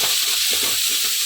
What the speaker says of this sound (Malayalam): എണ്ണ ഒഴിച്ചു, ഉള്ളി ഇട്ടു,